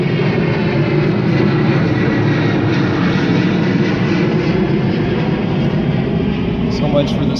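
Aircraft passing over an outdoor gathering in Des Moines, a steady loud engine roar that holds throughout, with faint voices underneath.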